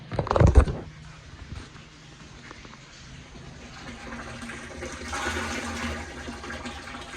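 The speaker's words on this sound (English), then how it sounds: "So from here I'll dump them right into the mash tun." RO water premixed with brewing salts is dumped into a mash tun for a blonde ale, a brief loud splash and gush at the start followed by quieter trickling and mechanical background noise.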